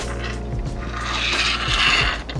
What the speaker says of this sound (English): behind here the aluminum extrusion opens up and you can slide your bolts in